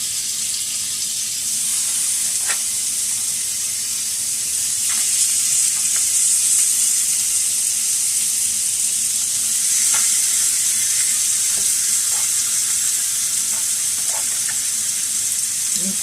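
Ground turkey fries in butter in a pan with a loud, constant sizzle up close, broken by occasional scrapes and taps as the meat is broken up and stirred.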